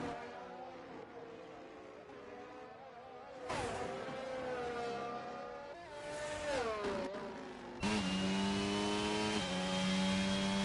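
A GP2 race car engine howls onboard on an out lap at the Singapore street circuit, its pitch rising through the gears and dropping between them. It is loud and close throughout.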